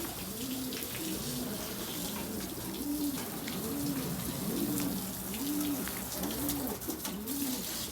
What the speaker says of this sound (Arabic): كل شيء خشب يرش بالمي، كل شيء بلاستيك يرش بالمي